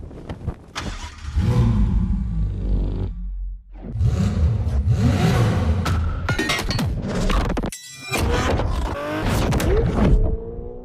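A Ferrari supercar in The Crew Motorfest revs hard and loud, its engine note rising and falling through repeated sweeps, with brief gaps between the roaring bursts.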